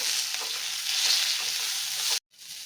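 Mint and coriander frying in masala for chicken biryani, a steady close sizzle with light stirring, cut off abruptly near the end before a brief quieter return.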